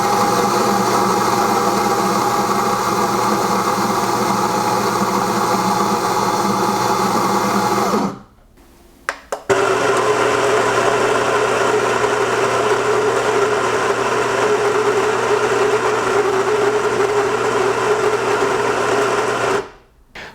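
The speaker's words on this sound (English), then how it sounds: "Let's take a moment to listen to both of these machines while grinding for espresso" A Mahlkonig X54 and a Baratza Vario coffee grinder grind fine for espresso, a loud steady motor whine that stops briefly, restarts and runs again before cutting off.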